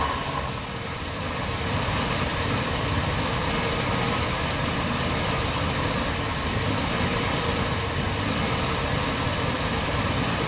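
A Jeep engine idles a little high after carburetor adjustment, with a steady, continuous rumble and hiss that holds at an even level throughout, close by and with no voices.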